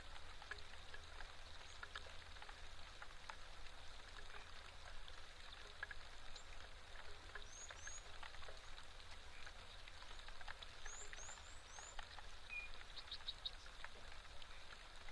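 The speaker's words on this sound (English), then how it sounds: "But nice to see some rains falling in Africa." Rain patters steadily at an African waterhole, a faint, even wash of drops with frog calls and insects faintly mixed in, and no voices.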